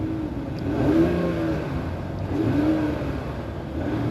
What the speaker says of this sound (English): let's go ahead and see if we can hear a bit of this Hurricane inline 6